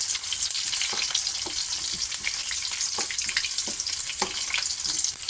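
Ground chicken browning in a frying pan gives a loud, continuous sizzle close up, with scattered pops and scraping stirs breaking through the steady crackle.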